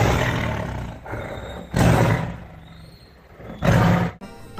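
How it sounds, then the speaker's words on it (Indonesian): Tiger roaring in the video game Jurassic World Evolution 2, three loud, deep roars close up, separated by brief lower growling pauses. "ada harimau"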